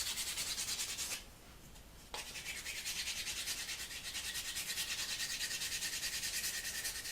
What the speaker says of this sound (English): I'm going to sand the top of it too.